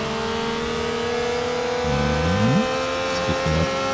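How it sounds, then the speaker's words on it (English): A Ferrari race car engine in the Real Racing 3 mobile game, during an F1 invitational race, drones steadily, then rises and dips in pitch with quick revs as cars pass. "That's a Ferrari that we just overtook."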